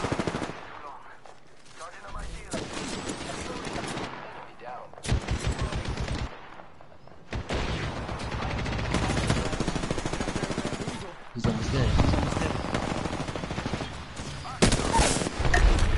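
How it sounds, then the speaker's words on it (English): Rapid enemy gunfire rattles through a shooter video game firefight, dense bursts of automatic fire coming in several long stretches separated by brief gaps, loud and close throughout. "The enemies are shooting."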